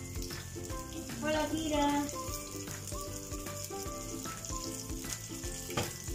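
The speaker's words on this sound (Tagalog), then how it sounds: "Malapit na rin maluto yung ating pritong isda mga parts." Dorado fish fries in a pan with a steady, close sizzle running throughout, under background music and brief talk.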